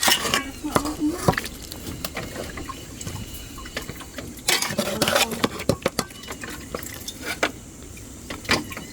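A wooden ladle stirs taro and lima beans in a pot, with repeated scraping and knocking plus faint liquid sounds at a steady, close, moderate level.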